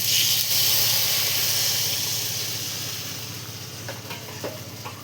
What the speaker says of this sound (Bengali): দু মগ জল দিয়ে দিলাম বন্ধুরা।